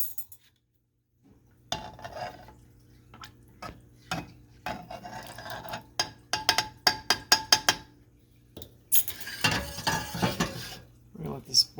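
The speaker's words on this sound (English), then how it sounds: "I need to stir this up a little bit" A spoon scrapes and clanks against a pot while Italian beef is stirred, with irregular metallic knocks and scraping strokes in clusters, plus a low background hum and faint sizzling.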